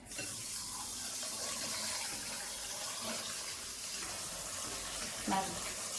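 Rice is washed in water for biryani, with steady running water and gentle sloshing, a soft splash near the end.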